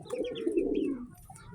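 A pigeon cooing close by, a single low, throaty, rolling coo lasting about a second, followed by faint quiet background.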